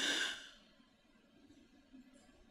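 A person's voice imitates the labored dying breath of someone near death: one breathy, sighing exhale near the start, then quiet, faint breathing that trails off.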